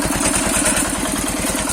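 A heavy liquid-cooled walk-behind tractor engine, with newly replaced piston rings, chugs steadily at idle, close and loud, with a regular low thumping rhythm and a bright mechanical rattle throughout.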